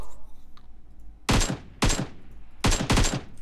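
Four loud, sharp gunshots from PUBG Mobile, a battle royale shooter, crack out in an uneven rhythm over a quiet background, each with a short ringing decay.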